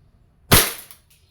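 An E&C Glock 17 Gen 5 airsoft pistol fires once through a chronograph: a single sharp, close crack that fades quickly, followed by a faint click.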